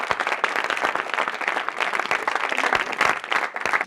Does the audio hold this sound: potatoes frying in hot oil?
no